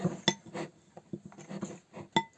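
Soap and slime ingredients are stirred in a bowl, giving a run of light, uneven clinks and taps of a utensil against the bowl, close and fairly quiet, with no talk.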